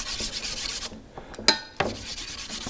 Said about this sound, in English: have a little bit too much glue and rather scrape it off